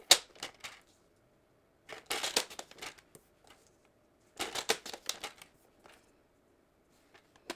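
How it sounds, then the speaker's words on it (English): Scissors snip paper into small strips for a pop-out fold craft, a series of crisp close cuts in two bursts separated by short pauses, with quiet room tone between. "This one I'm going to cut into little panels."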